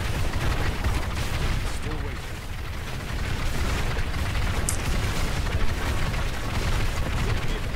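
A Diablo 3 Explosion Wizard build sets off a nonstop barrage of game explosions, loud and close, the blasts merging into one dense, rumbling roar with no quiet gaps.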